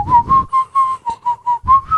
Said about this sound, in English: I can whistle really, really well.